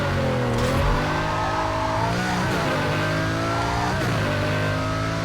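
A race car engine in the video game Need for Speed Carbon revs and whines through shifting gears, loud and continuous, with no voices.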